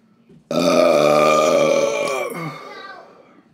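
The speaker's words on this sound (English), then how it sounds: "Got another burp coming." One long, loud, resonant burp, close to the mic, rumbles for about two seconds before trailing off, after a man eats a Caramel Scorpanero pepper.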